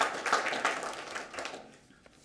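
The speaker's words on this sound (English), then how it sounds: "applause for that" Audience applause at a school board of education meeting, a crowd clapping steadily at moderate distance that tapers off over about two seconds, ending with a single sharp tap.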